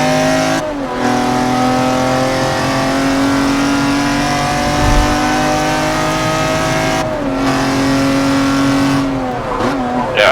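Loud, sustained race car engine from a racing video game, steady harmonic drone with brief gear-shift dips and a rising rev near the end, heard alone without talk.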